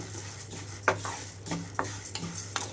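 Toor dal being stirred and roasted in a pan over a medium flame, with intermittent scraping strokes of a utensil against metal and a faint background hum between them.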